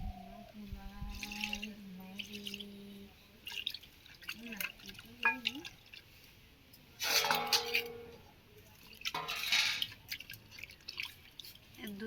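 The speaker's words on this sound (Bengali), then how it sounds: "এবার জল দিয়ে ভালো করে ধুয়ে নেব।" Water splashes and drips as prawns are washed in a bowl, with bursts of running water, small clinks of a vessel and faint background noise in between.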